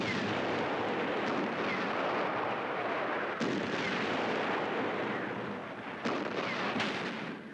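Soviet artillery batteries firing in a World War II tank battle, a continuous roar of heavy gunfire and explosions with several sharp, louder blasts standing out against the rumble.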